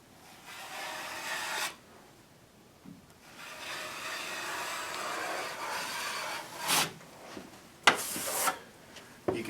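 A steel trowel rides across wet drywall joint compound on the first coat, feathering the mud into the wall. Soft, continuous rubbing and scraping strokes come close up in long passes, with brief sharper scrapes near the end and no talk.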